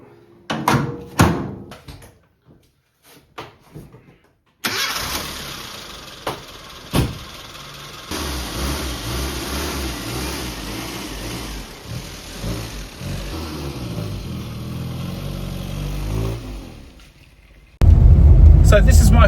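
Rover Mini, a limited edition model, starts up and drives off on the road, the engine rising from a few door clunks and a catch into a steady running drone, with brief talk near the start.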